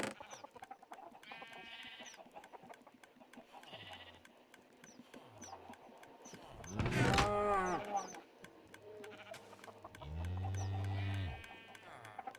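Cows moo in Minecraft in several drawn-out calls, with a loud one near the middle and another later, over a faint background.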